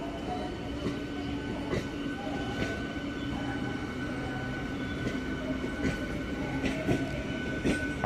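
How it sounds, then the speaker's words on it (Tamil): Chennai local train running at night on the last service to Chengalpattu from Beach station, a steady rumble of rolling wheels and car noise with periodic clicks and rattles, continuous and close. "இங்கேருந்து செங்கல்பட்டு போகக்கூடிய லாஸ்ட் ட்ரெயின்"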